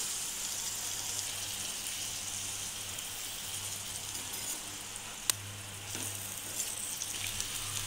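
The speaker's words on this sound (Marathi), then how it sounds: "चिरून ठेवलेली फरसबीची भाजी आणि बटाटा टाकून हे सर्व एकत्र परतवून घेऊया व्यवस्थितपणे" Green beans and potato stir-frying together in a pan for a masala vegetable dish, a faint steady sizzle with a low hum underneath and one sharp click partway through.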